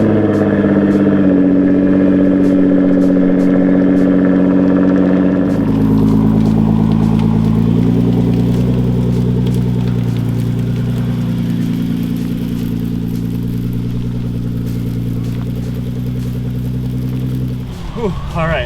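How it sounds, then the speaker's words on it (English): Nissan GT-R R35 engine idling steadily in snowy conditions, a loud, close, deep rumble with a low steady hum. It shifts to a lower, rougher tone partway through and then runs on, with a brief change near the end. "So let's go ahead and fire it up and see if I can drive the GTR in the snow."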